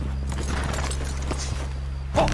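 Horses' hooves clip-clop at walking pace in Red Dead Redemption 2, soft repeated thuds under a constant low game rumble, with a brief louder burst near the end.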